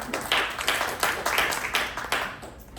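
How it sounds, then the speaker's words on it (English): A small group claps at a team meeting, a short burst of hand claps that swells and fades in uneven waves, fairly close and with no talk over it. "So let's give them a round of applause as well."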